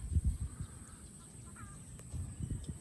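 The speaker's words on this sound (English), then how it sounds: "Even these ducks, is that ducks? That's ducks." Ducks at a house in Antique, Philippines give short, low, throaty calls in scattered bursts at the start and end, fairly near, over quiet outdoor background.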